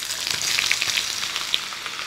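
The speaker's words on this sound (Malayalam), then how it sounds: "ഈ എണ്ണയിലേക്ക് സവാള ഇടാം." Sliced onions dropped into hot oil for Chicken 65 sizzle and crackle steadily, a dense close hiss with a few sharper pops, no talking.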